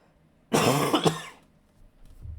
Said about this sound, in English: I am coughing a lot.